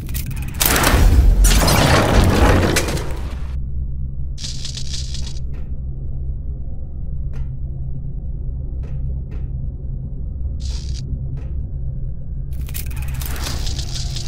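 Explosions in the video game Verne: The Shape of Fantasy: a loud booming blast and rumbling crunch at the start, then a low steady rumble with brief crackling bursts and scattered clicks, and another rumbling swell near the end.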